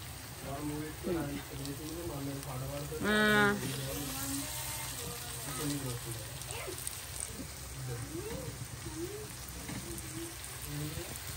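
Chicken leg pieces fry in a pan with a steady soft sizzle and crackle throughout, while a person talks over it.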